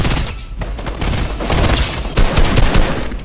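Loud gunfire in the Fortnite video game, a continuous barrage of rapid shots with heavier bursts near the end, close and dense, with no talking.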